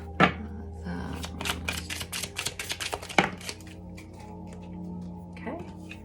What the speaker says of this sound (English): One more. Less clumsy shuffle